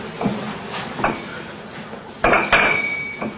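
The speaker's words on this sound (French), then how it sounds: "Et ça vous fait quoi de manipuler de l'or? D'abord c'est beau, et puis c'est mythique. Il faut le voir, il faut l'entendre aussi, parce que on dirait du cristal." Gold bars knocking together, giving a few sharp bright clinks with a glassy, crystal-like ring, spaced irregularly and fairly close, with no voices.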